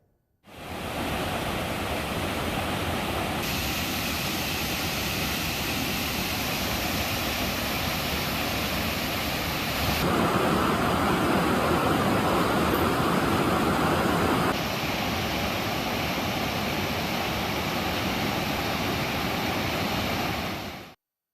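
A flooded waterfall roars as a dense, unbroken rush of water, loud and constant throughout with slight shifts in intensity and no voices.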